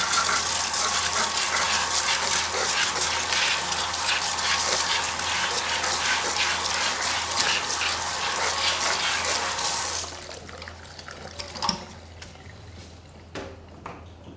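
Water runs steadily and loudly from a tap as a hairpiece is washed, a continuous gush for about ten seconds before the flow drops off and fades to quieter, intermittent splashes and drips.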